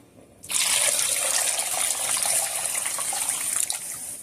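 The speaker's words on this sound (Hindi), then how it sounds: "तो अब हम इसमें पानी ऐड करते हैं।" Water poured into a pot of mutton haleem, Dhaka-style, makes a loud, steady gushing splash that starts abruptly and continues without a break, with no talking over it.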